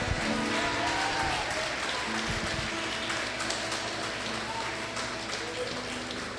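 A church congregation claps along through the whole stretch, a steady dense patter at moderate volume over a low sustained hum, with no pause or clear break.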